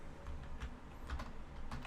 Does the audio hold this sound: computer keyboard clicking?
yes